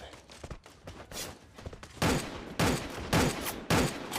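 Rapid bursts of gunfire crack out in a competitive shooter video game match, starting as lighter scattered shots and growing into heavy, evenly spaced volleys, with a commentator's voice faintly underneath.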